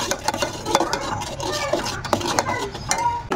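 Caramel custard mixture is stirred in a pan, a spoon scraping and tapping against the metal in uneven, busy strokes at close range, with a soft background hiss throughout.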